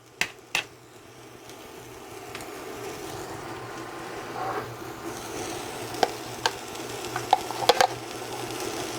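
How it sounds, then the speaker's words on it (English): A soft, continuous scraping stir of thick cheese sauce into ground beef, 95.5 lean, cooking in a pan, with a low sizzle underneath and a few sharp utensil clicks against the pan. "And I'm going to add the cheese sauce."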